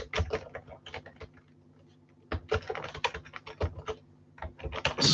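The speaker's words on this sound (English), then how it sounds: "Right, I'll stop typing, Babs." Someone types on a computer keyboard in quick, uneven bursts of close, crisp key clicks, separated by a short quiet pause.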